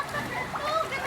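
Splashing from wading through flood water in a residential area, a brief sloshing burst under a nearby voice.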